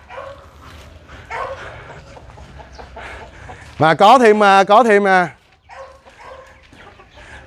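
Chickens on Nam Ngô Farm call out, with one loud, harmonic squawking burst near the middle, while a person talks before and after it.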